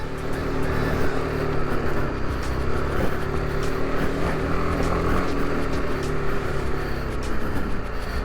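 A vehicle climbing a steep hillside trail of loose rock and gravel at Lytle Creek, its engine droning loud and steady with constant rumble and crunching from the tyres, close and unbroken throughout.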